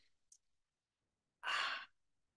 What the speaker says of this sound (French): Inspirez par le nez, bloquez